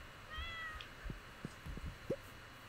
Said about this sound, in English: Alright, I pet my kitty.